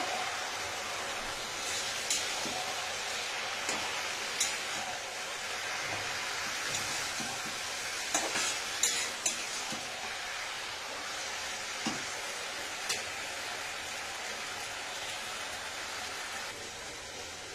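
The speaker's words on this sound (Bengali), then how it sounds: "আর লবণ এবার একটু নাড়াচাড়া করে নেব" Jute leaves stirred with salt in a pan, a steady soft sizzle and hiss throughout with occasional light scraping clicks of the spoon, no voices.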